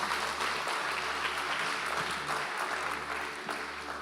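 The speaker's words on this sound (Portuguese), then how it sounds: "Alguém pode aplaudir Jesus mais uma vez?" Church congregation applauding during a worship service, a steady, dense wash of clapping from many hands filling the room throughout, with no clear break.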